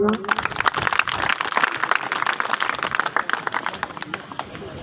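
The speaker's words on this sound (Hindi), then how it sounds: "जोरदार तालियां" A crowd at an Independence Day program at a government senior secondary school in Mewat gives dense, crackling applause for a guest, with sharp individual claps throughout and voices mixed underneath.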